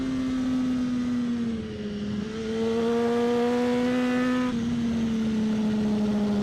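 A BMW S1000RR motorcycle on a race track at Auto Club Speedway, its engine holding a steady high drone that dips and rises as it is drifted into a corner, heard at moderate distance with no talking.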